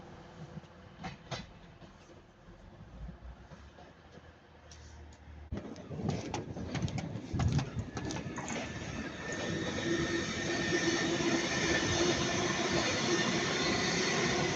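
Class 331 electric train at Ardwick, a few sharp clicks and knocks at first, then a rising rumble of wheels and running gear that swells and holds steady as the train goes by.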